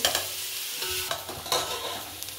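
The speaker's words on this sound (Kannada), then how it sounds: "ಎರಡು ಹಾಕ್ಬಿಟ್ಟು ಇವಾಗ ಸ್ವಲ್ಪ ಹಸಿ ವಾಸನೆ ಹೋಗೋವರೆಗೂ ಈ ರೀತಿ ಫ್ರೈ ಮಾಡ್ಕೊಳ್ಳೋಣ" Ginger and garlic paste fries in a pan, a close sizzle broken by a few quick stirring scrapes and clicks.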